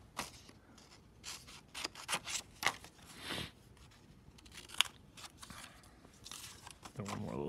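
Scissors snip and crunch through black paper while cutting out a haunted house pop-up, a run of quick, close, irregular cuts and rustles at fairly low level.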